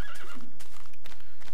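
A black horse neighs in a video game, a single whinny over faint hoof clip-clops, with no talking.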